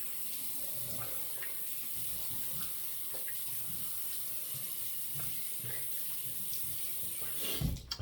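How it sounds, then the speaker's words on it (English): A bathroom tap runs steadily into a sink while a man wets his face before a shave, with a continuous close splashing flow and a brief louder splash near the end, no talking. "I'm going to wet my face again."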